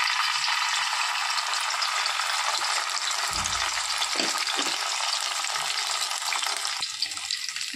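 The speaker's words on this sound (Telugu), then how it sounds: "సో నెయ్యి వేడయ్యాక మనం ఇందులోకి ఒక 2-3 పచ్చిమిర్చి వేసేసుకున్నాము. కొద్దిగా కరివేపాకు, అలాగే కొంచెం జింజర్ గార్లిక్ పేస్ట్." Green chillies, curry leaves and ginger garlic paste frying in hot ghee, a steady loud sizzle that runs throughout with no voices.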